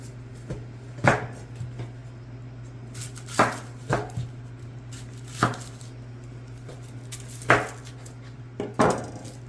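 Onions being chopped with a knife on a cutting board for freeze drying, giving sharp, irregular thuds spaced a second or two apart over a steady low kitchen hum, close and fairly loud.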